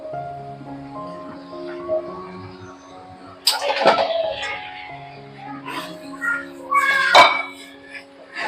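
Pieces of shankar (stingray) fish drop into a hot pan of spiced masala for a curry, giving two short bursts of sizzling spatter along with light clinks of utensils over a low background hum.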